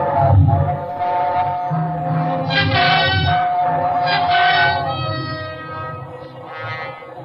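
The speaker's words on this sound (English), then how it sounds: "It was only the train going through the tunnel" A train roars through a tunnel as a radio drama sound effect, a loud rumbling surge with wailing, whistle-like tones that rise and fall over several seconds before fading slightly.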